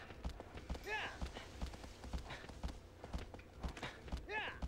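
Steady rhythmic clip-clop of a horse's hooves galloping in the Shadow of the Colossus video game, continuous and prominent, with someone talking over it.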